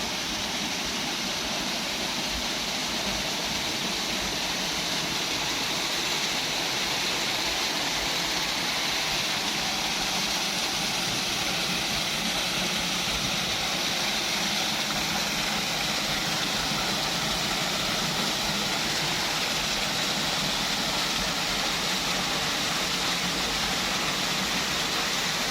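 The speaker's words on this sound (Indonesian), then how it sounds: "Air terjun Bukit Dua Immanuel itu tingginya sekitar 3-5 meteran, dan alirannya tidak terlalu besar dan tidak terlalu kecil" A small waterfall about 3 to 5 meters high with a moderate flow at Bukit Doa Immanuel in Prigen, East Java: a loud, unbroken roar of falling water that stays constant throughout, with no talking.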